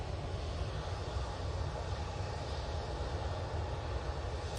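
Ryanair Boeing 737 jet departing Manchester Airport, a continuous broad engine roar held at a steady moderate level throughout.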